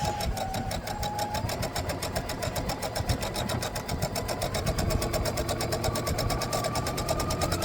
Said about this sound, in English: Putting a few 1/4 inch seam.